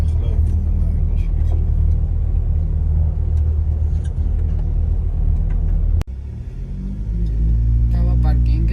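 A large car engine idles with a steady, loud low rumble close by. Partway through there is a sharp knock and a brief dip, and then the engine settles back into a deep hum with a rising tonal whine.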